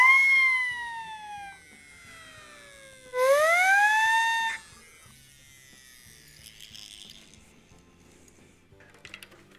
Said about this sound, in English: Siren whistle.